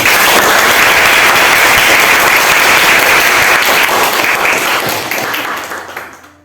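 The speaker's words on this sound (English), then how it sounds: "let's give a round of applause for what you have done today" Students in a classroom give a loud, sustained round of applause that fades out toward the end, with no talk over it.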